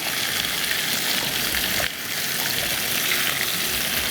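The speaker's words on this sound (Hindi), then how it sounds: "इसको अच्छे से लहसुन अदरक में थोड़ा भून लेंगे गोश्त को" Meat frying hard in hot oil with garlic and ginger, a loud, steady sizzle running unbroken with a brief dip midway, no voices.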